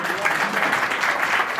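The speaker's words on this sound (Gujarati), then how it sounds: "રાજુભાઈ ઉભા થશે, એમને જોરદાર તાળીઓથી વધાવીએ." An audience claps steadily and fairly loudly throughout a short stretch at a community reunion gathering of the Vishwakarma Dodiya community in Chotila, a dense even patter of many hands with no break.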